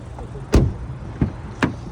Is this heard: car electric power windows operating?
yes